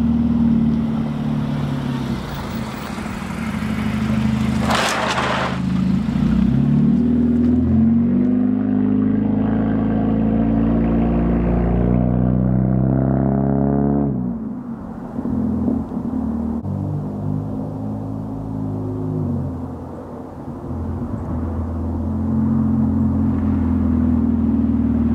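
A lowered-stance car creeping over an obstacle at an angle, its engine a steady loud low rumble with a brief revving swell midway, then easing off and settling.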